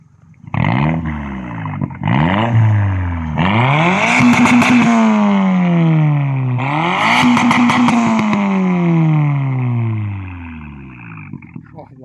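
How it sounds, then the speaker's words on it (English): Toyota Starlet Glanza V engine revving hard through its exhaust, with several sharp rising blips followed by two long, loud revs that sweep up and fall back, close and dominant throughout. "I love a good bit of exhaust and the noise from it too"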